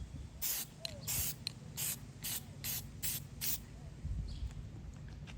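Aerosol spray paint goes on car badges to black them out, in about eight short, crisp hissing bursts of roughly equal length with brief pauses between, close and clear.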